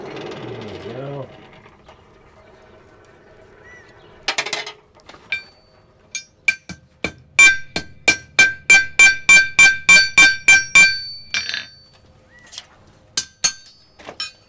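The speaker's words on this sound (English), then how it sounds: "We'll heat it back up one more time. Put a head on that nail." Blacksmith heading a hot nail in a nail header: a quick run of about a dozen sharp, ringing metallic hammer blows in steady rhythm, preceded by a few scattered strikes and a short voice, close and clear.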